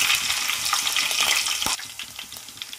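Green chilies fry in oil with a loud, close crackling sizzle that softens partway through, accompanied by a few faint clinks of a utensil.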